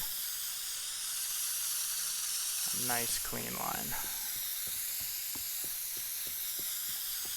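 Spray can hissing steadily in the game Teardown, a continuous airy spray across the whole stretch, with someone speaking briefly over it near the middle.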